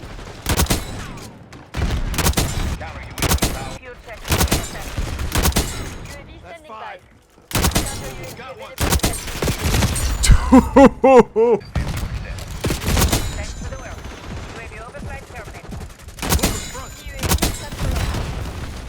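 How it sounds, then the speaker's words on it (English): Repeated bursts of gunfire and explosive RPG blasts from a Call of Duty match, loud and clustered in several volleys with short gaps, a player's voice talking between them. "This guy, there are two of them firing RPGs at me."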